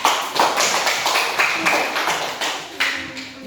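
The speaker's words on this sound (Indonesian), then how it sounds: "Tepuk tangan, mari tepuk tangan." A group in a classroom claps hands together in quick repeated bursts, close and fairly loud, with no talking.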